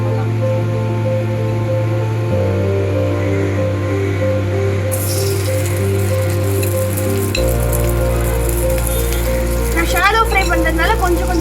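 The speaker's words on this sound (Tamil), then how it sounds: "இப்போ நம்ம வந்து ஃப்ரை பண்ணலாம்" Marinated cauliflower pieces shallow frying in hot oil give a steady sizzle throughout, partly under a loud droning tonal background.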